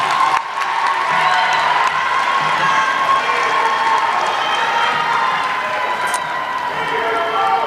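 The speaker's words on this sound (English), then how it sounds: "Please applaud your families." Graduates of an ASU Spring 2021 College of Business, Education and Professional Studies commencement class applaud and cheer toward their families, a steady dense wash of clapping and crowd noise throughout with occasional shouts.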